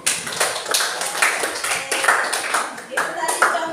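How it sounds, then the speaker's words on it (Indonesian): Classroom applause for a classmate, a steady patter of many hands clapping at close range for a few seconds, with voices mixed in underneath. "tepuk tangan dulu untuk temannya."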